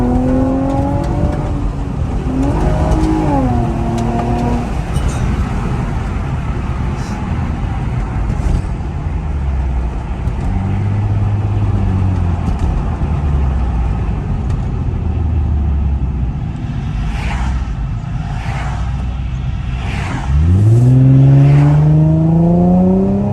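A 2007 Infiniti G35 Coupe engine accelerating at half throttle, loud and close, with rising harmonic sweeps through repeated gear pulls and a strong final surge near the end, no talking.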